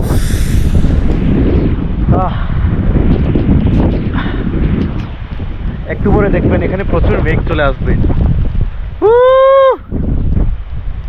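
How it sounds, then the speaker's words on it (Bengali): Steady gusting wind buffets the microphone on a hillside near Thanchi, Bandarban, with a person talking over it throughout and a brief whistling tone near the end. "এখানে ভালো তো অনেক বাতাস"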